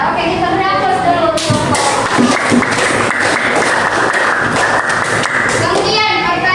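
Classroom applause for a student who answered correctly: a burst of children clapping, loud and dense, rises after a moment and holds for several seconds before fading, with a few kids' voices mixed in.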